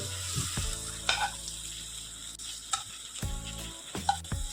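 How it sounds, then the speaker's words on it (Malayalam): Brinjal slices shallow frying in a pan give a close sizzle, punctuated by thuds and clinks as pieces are moved and turned. "ഞാൻ ഒരു വഴുതനായിട്ട് എടുത്തു ഇതൊന്ന് ഷാലോ ഫ്രൈ ആക്കി വറുത്തെടുക്കണം"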